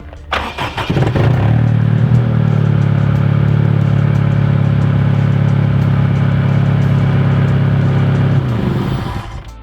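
An Acura Integra race car engine cranks, fires up and settles into a loud, rough, sustained rev close by, holding a strong steady roar for several seconds before easing off.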